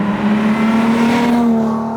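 A 1971 Ferrari 365 Daytona Spyder engine revving loud and close, its steady tone climbing slightly in pitch before easing off at the end.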